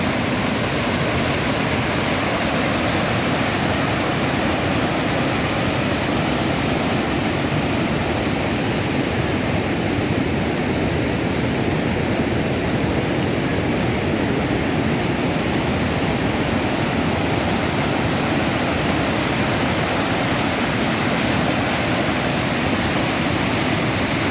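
The waterfall at Yaremche roars in a constant, broad wash of rushing water, steady and enveloping from start to end with no voices.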